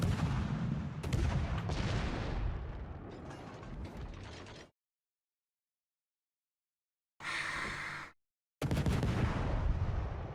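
Naval gunfire from warship guns in the game World of Warships: dense, loud booming salvos and rumbling fill the first half, then silence, a short burst of mechanical noise, and another heavy barrage.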